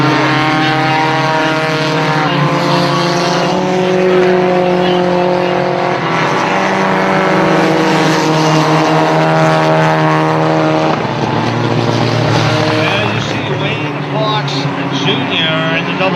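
Race cars thunder around the track during the Northern Lights feature race, engines droning loudly with shifting pitch while a commentator calls the action over them.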